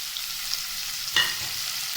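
Chopped tomato frying with onion and ginger garlic paste for a dahi bhindi recipe gives a steady, close sizzle, with one short clatter partway through and no voices.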